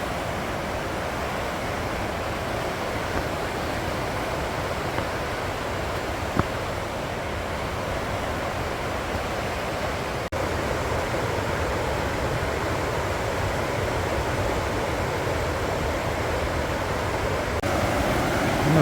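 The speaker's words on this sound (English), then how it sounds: "There's some Class 3 whitewater." Class 3 whitewater rapids on the Housatonic River in Connecticut, a steady loud rushing roar of churning water that holds unbroken throughout.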